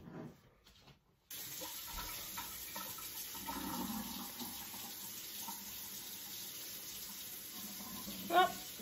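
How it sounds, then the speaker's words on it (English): Water pours from a container into a potted plant whose pot has no drainage hole, a steady trickling splash that runs for about seven seconds at moderate volume after a brief quiet start. "So now all I have to do is water this baby here."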